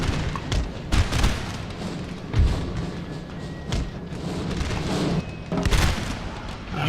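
Artillery volleys boom in the Napoleon: Total War battle, a series of heavy thumps and gunfire bursts spread across the clip over a constant battlefield din.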